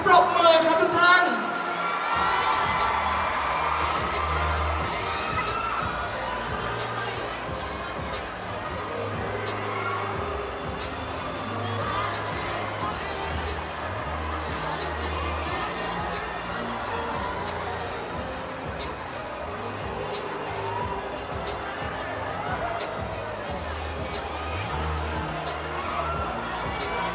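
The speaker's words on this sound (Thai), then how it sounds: "ขอเสียงปรบมือครับทุกท่าน" Crowd noise fills a Bangkok press conference for a singer's 2023-2024 Area52 world tour, a steady roar of clapping, shouting and cheering that runs loud and unbroken throughout, with voices mixed in.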